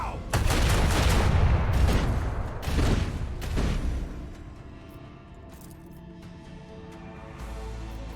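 Torpedo launches in the Rogue Trader space strategy game: a burst of heavy booming blasts in quick succession, loud and close, then fading into a lower rumbling hum, with brief talk over it.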